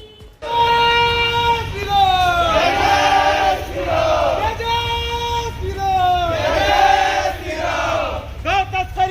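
Crowd at a rally against cow smuggling chanting protest slogans in unison, loud rhythmic shouted phrases repeated several times with a call-and-response swell.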